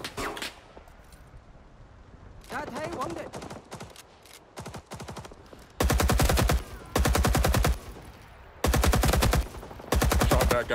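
Gunfire in the Vietnam War video game Rising Storm 2: scattered single shots, then loud sustained bursts of automatic fire in several long strings, with brief pauses between them.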